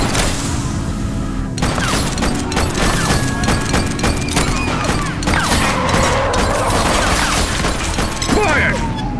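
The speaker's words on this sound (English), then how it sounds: "Gunshot!" Gunfire in the police video game The Precinct: a rapid fusillade of sharp shots crackles over a dense, noisy street soundscape, loud and continuous, with no one talking.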